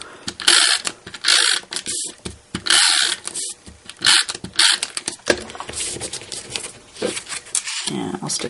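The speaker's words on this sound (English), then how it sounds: "So I'll get my trusty tape runner." Trusty tape runner laying adhesive while assembling a Copic-colored card, giving repeated short clicking, ratcheting bursts close by, interleaved with soft handling sounds.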